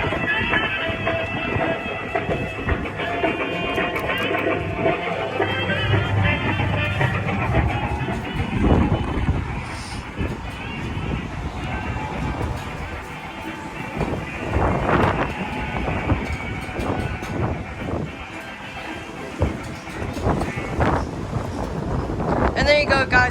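A Whitaker Brothers Santa Fe train kiddie ride runs with a continuous mechanical hum and rattling, its bell-like chimes and clanks recurring over about twenty seconds, with wind buffeting the microphone and faint voices nearby.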